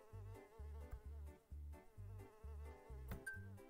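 An insect-like fly buzzes in a video game as a quiet, electronic drone broken into short regular pulses, each burst separated by brief gaps.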